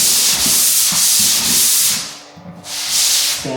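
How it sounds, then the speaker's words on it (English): A hand sander with sandpaper works drywall joint compound on a taped butt joint. The strokes are loud, close and rhythmic, about two per second with a short pause near the end, and nobody speaks. "Sander again on an angle like this."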